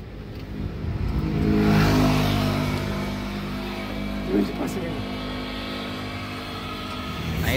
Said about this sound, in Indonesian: Jadi seperti ini ya mesin dari Mercedes-Benz 1526